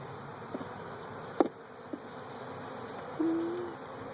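Honeybees at an open hive, with scattered close buzzes from individual bees passing near, one sharp buzz burst and a longer sustained drone near the end, over a quiet outdoor background.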